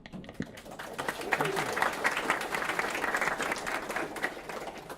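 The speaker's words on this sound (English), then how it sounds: "round of applause" At the opening remarks of a conference, brief speech gives way to a steady wave of audience applause that swells quickly and holds at a full, even level.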